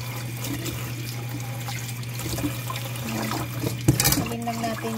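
Sliced milkfish (bangus) rinsed under running tap water in a kitchen sink, a steady close stream splashing with a low hum underneath and a brief louder clatter near the end.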